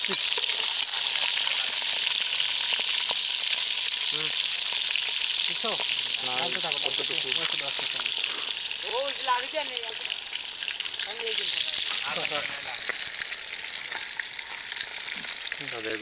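Food sizzles steadily in a hot pan while being stirred during outdoor picnic cooking, a dense continuous crackle with scraping stirs, close and loud, with people talking over it.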